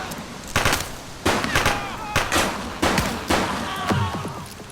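Gunfire in the police video game The Precinct: several loud bursts of rapid shots in a roughly regular rhythm, nearby and sharp, with a voice speaking between volleys.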